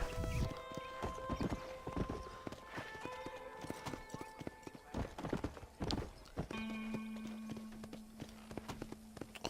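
Horse hooves clip-clopping in a steady rhythm in the video game Red Dead Redemption, close and clear, with a brief whinny and faint background tones.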